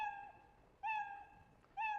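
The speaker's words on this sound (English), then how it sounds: "if my goal was to make the cat meow 3 times" A cartoon cat's meow sound effect plays from a Scratch program, three short, clear, identical meows spaced about a second apart, quiet and alone with no talking.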